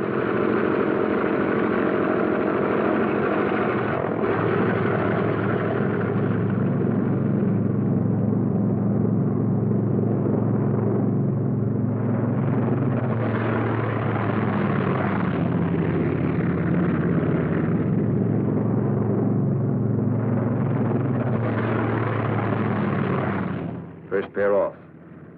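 Several P-47 Thunderbolt fighter-bombers from a World War Two squadron take off in pairs, a loud sustained piston-engine roar rising and swelling over about twenty-five seconds before cutting off abruptly.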